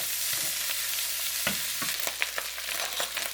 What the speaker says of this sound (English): Stir them all up. Let that cook.